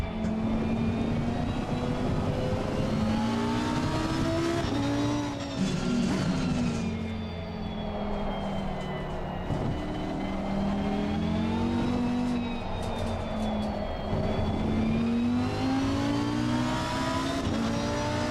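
Lamborghini GT car engine in a sim racing game, a sustained revving drone that climbs and dips in pitch through gear changes, steady and loud for the whole stretch with no talk.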